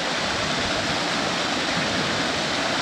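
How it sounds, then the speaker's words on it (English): Waterfall on Dartmoor pouring into a small plunge pool, a steady close broadband rush of falling water that fills the whole clip with no voices. "Should we have a look in the waterfall and stuff?"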